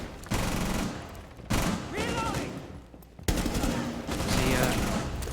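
Shotgun firing slug rounds during an esports match of a tactical shooter, heavy sharp blasts separated by pauses, each followed by ongoing game noise and fast commentator speech throughout.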